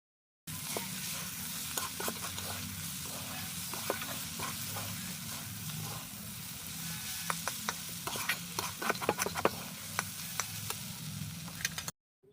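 Broad bean seeds frying with salt and turmeric under a lid for Bengali sim bichi chorchori, a steady close sizzle with scattered ticks and scrapes of stirring throughout, no talking.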